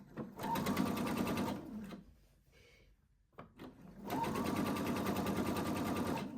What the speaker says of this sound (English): I'm going to pop my presser foot down and sew a line of gathering stitches really quite close to the edge